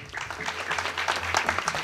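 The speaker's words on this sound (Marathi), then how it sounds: "एकदा जोरदार टाळी वाजवा" Audience members at a devotional kirtan gathering in Baalumama's darbar clap loudly together, a dense, brisk burst of applause that fills the space close up.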